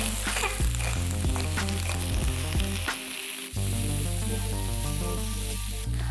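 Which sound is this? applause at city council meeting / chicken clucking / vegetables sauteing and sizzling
vegetables sauteing and sizzling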